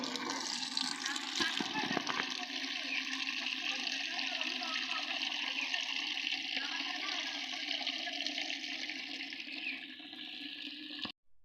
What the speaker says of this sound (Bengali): এখন গাছের মধ্যে পানি দেব।